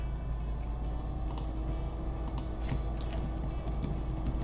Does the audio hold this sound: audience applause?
no